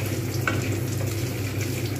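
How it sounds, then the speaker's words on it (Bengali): Two dry red chillies and a little over half a spoon of whole cumin crackle in hot oil as tempering for moong dal with katla fish head, a close, continuous sizzle with faint pops and no talking. "শুকনো লঙ্কা আর গোটা জিরে ফোড়ন।"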